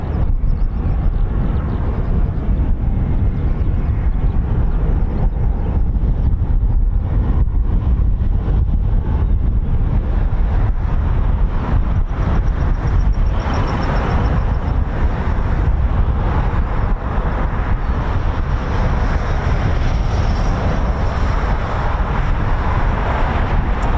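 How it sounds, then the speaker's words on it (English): Jet engines of military aircraft at RAF Mildenhall, a continuous loud roaring rumble with a broad whooshing hiss, sustained throughout with wind buffeting the microphone. "Lovely sounds of those CFM engines, isn't it?"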